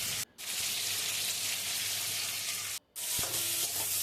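Potatoes with salt, turmeric, cumin and coriander powder sauté in a pan for a fish curry, giving a loud continuous close sizzle with stirring scrapes, briefly cut twice.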